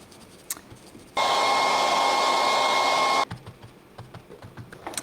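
A hair dryer blows on wet paint on a craft canvas in one steady, loud whirring burst of about two seconds. It switches on and off abruptly, with quiet room sound on either side.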